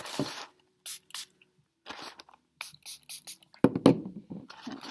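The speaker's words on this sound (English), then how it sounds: "I'm going to spray it and kind of mold it on." Several short hissing bursts from a spray bottle spraying water onto toilet paper, separated by pauses, with a few soft handling noises in between.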